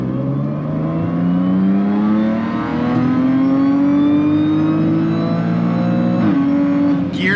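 A car engine accelerates hard through a third-gear pull, its pitch climbing steadily and loudly over about seven seconds, close and alone, with a brief dip near the end as the gear shifts.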